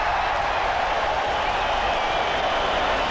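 Stadium crowd at a 1986 rugby league test between New Zealand and Australia applauds the players as they leave the field, a dense continuous wash of clapping and crowd noise heard from a distance.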